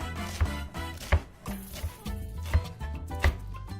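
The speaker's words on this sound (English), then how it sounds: "the easier it's going to be to run a knife through this" A knife chopping food on a cutting board, slow deliberate thuds spaced about every half second to second, close and clear with no talking.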